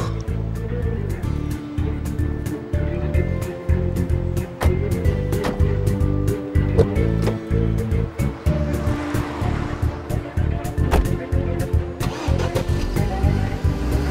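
A car engine starts and the car pulls away, giving a steady close mechanical hum with a fast ticking pulse and swells of revving throughout.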